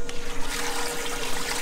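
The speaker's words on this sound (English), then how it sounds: "water pumps here. Kick that on." A water pump in a striper bait shad tank runs with a steady watery trickle and hum, constant and close throughout with no talking.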